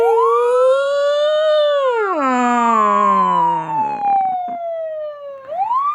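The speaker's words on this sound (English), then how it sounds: "Police siren. Everybody knows this one." Police siren sound effect, a loud continuous wailing tone that rises, holds, sweeps down and rises again, heard up close with no talking.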